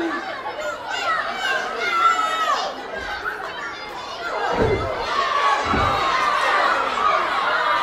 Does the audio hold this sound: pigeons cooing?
no